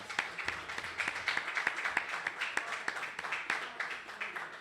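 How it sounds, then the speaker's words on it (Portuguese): Church congregation clapping during an evangelical service in Americana, São Paulo, a soft, distant patter of hands with some rhythmic accents, fairly quiet throughout. "Uma salva de palmas."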